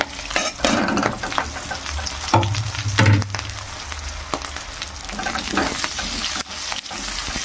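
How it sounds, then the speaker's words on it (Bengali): Chopped onion fries in a pan for a shak (greens) dish with garlic and ginger, giving a steady close sizzle broken by scraping stirs of a utensil against the pan. "পেঁয়াজটাকে একটু ভেজে নেব এখানে"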